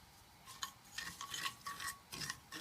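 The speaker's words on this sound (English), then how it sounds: "We're just going to let these heat up a little bit, and I will stir them around." Spices heating in a pan and being stirred, a series of quiet scraping and rattling strokes of a utensil against the pan over a faint sizzle, with no one talking.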